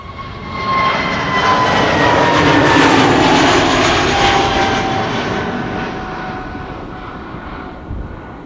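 A Delta Airbus A330neo in Team USA livery departs Amsterdam Schiphol for Boston, its jet roar building to a loud peak with whining engine tones, then slowly fading as it climbs away.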